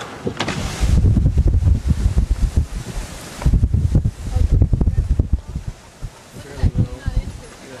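Hurricane Gustav winds roar through the deserted streets of Alexandria in heavy buffeting gusts, loud and close against the microphone, rising and falling in several surges with brief lulls between.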